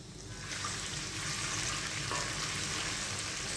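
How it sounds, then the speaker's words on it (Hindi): Onions sizzling steadily in a hot pan as a little water is poured in, giving a continuous loud hiss with a faint splash and no talking, for an aloo chicken shorba. "प्याज को फ्राई करने के बाद अब हम यहाँ पर थोड़ा सा पानी ऐड करेंगे"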